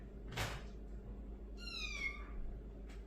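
A house cat gives a clear drawn-out meow that rises and then falls, close by in a quiet indoor room, with a short rustle just before it and a faint second call at the end.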